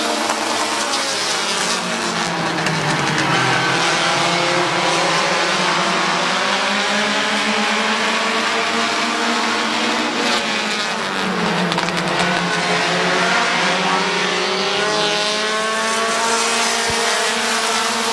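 Race cars roaring around Midvale Speedway oval track, several engines droning continuously with rising and falling pitch as the pack passes, loud and sustained throughout.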